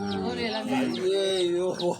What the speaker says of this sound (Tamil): கொடாப்புக்குள்ள கோழி